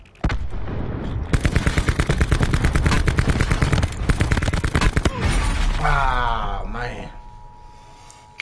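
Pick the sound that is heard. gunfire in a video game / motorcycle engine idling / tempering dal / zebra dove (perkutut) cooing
gunfire in a video game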